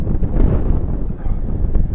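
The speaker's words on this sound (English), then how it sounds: "It's proper windy." Strong wind buffets an outdoor microphone, making a continuous low, gusting rumble that swells and dips with no clear speech.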